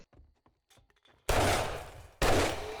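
Gunfire in the survival video game 7 Days To Die: two loud, sustained bursts of shots crashing in after a quiet stretch of faint rustling, the second burst following a brief gap.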